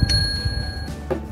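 A short bright bell chime sounds as a notification alert, ringing out clearly at the start and again near the end over a low background rumble.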